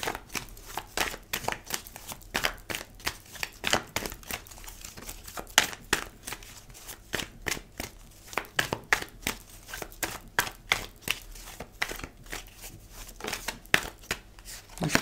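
Tarot oracle cards being shuffled by hand, a rapid series of crisp riffling slaps and flicks in uneven bursts, close and fairly quiet, with no talk.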